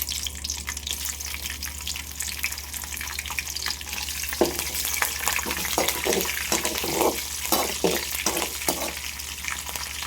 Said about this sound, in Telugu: ఈ గ్రీన్ చిల్లీ అనేది మంచిగా ఫ్రై అయ్యేంత వరకు మనం ఫ్రై చేసుకోవాలి